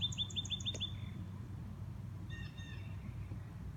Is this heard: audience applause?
no